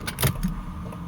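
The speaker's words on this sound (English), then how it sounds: "Let's take the secondary key, put it in the ignition" A key goes into the ignition of a Mercedes W210, a brief close metallic jingle and click lasting about a second, with no talk.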